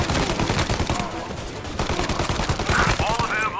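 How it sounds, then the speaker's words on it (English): Rapid bursts of gunfire crackle in Mafia Definitive Edition, a dense, loud fusillade of overlapping shots with game sound around it. "Reports of gunshots."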